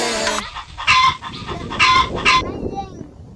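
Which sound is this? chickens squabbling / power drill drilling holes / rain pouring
chickens squabbling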